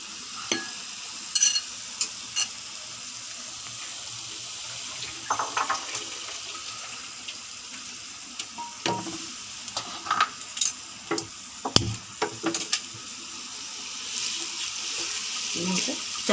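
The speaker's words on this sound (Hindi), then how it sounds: "अब ये प्याज ट्रांसपेरेंट हो गई है, अब मैं इसमें ये सब कीमा डाल दूँगी" Minced meat keema with softened onions fries in a pan, a low steady sizzle under intermittent scrapes and clatters of stirring, with someone talking at times.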